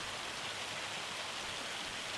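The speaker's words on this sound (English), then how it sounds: "We have to wait for the rain to stop before we harvest" Rain falls in the Farming Simulator 25 video game as a steady, dense hiss with no break and no voices.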